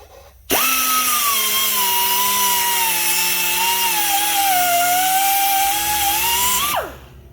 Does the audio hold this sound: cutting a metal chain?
yes